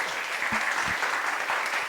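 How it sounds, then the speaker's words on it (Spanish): Applause from an audience at an art catalogue presentation for a young Nikkei art salon, brief continuous clapping at moderate volume with a couple of low thumps, no voices. "Un aplauso, por favor, para José Carlos."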